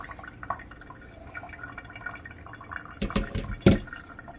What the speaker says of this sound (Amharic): ውሃው እንደዚህ መውረድ አለበት፣ መጠንፈፍ አለበት።